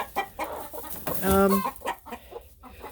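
A hen clucks by a nesting box on a farm, a close, agitated run of clucks rising into one drawn-out squawk, then settling into a few short clucks.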